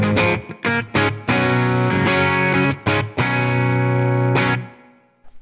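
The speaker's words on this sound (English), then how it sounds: "So this is like a room reverb" Distorted electric guitar through a Tonex One room reverb plays a series of short, choppy chords with brief gaps, then one sustained chord that rings out and fades into a short room reverb tail.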